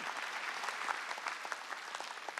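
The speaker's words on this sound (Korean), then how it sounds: "박수야." Congregation clapping during a Sunday church service, a brief burst of many hands applauding with irregular sharp claps, moderately distant and without talk.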